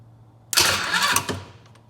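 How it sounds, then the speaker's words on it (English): A Polaris Ranger utility vehicle engine cranking, a sudden loud burst of mechanical churning that stutters for about a second after a faint hum, then drops away leaving a few light clicks. "All right, it started to crank."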